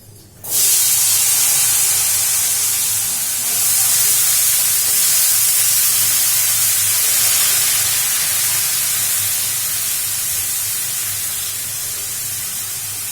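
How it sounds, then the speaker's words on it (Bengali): Dried red chilies hit hot oil for tempering, bursting into a loud, sudden hiss that holds strong and close, then eases slightly toward the end, with no talking. "আর শুকনো লঙ্কা ফোড়ন দিলাম।"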